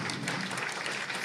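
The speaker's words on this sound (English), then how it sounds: "Give everyone a round of applause." Brief applause from an audience after a panel on US–Japan defense cooperation, a soft, even patter of many hands.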